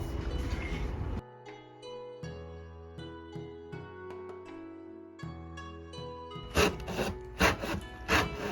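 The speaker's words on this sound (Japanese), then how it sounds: "枯れた倒木、それちょっと取っといたんで、これを切って" Handsaw working through a dead, fallen tree log in a garden, with rasping strokes at the start and again toward the end, close and fairly quiet, with no voices.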